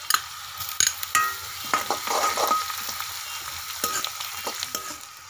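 Garlic goes into a pan of frying onion, cumin and bay leaf for mixed dal and gets stirred. Bursts of loud sizzle come with the scrape of a spoon, then settle into a softer hiss.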